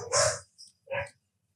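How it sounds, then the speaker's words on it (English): Dogs give two short, sharp barks close by, the second a moment after the first, then silence. "whenever I say something that's important, they start barking"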